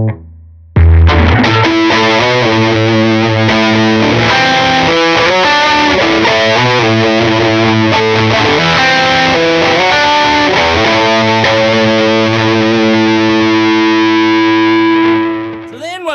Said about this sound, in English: We are on the heavier channel. We have the gain up quite a bit, and it makes a really cool sound.